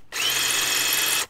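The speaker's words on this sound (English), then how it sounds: "so I can still drill pretty straight" A power drill bores out a spinning lug nut stud on a Nissan 350Z wheel, a loud, steady high whine running for over a second before stopping.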